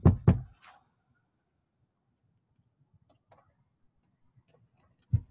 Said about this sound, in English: Yeah, I can hear knocking.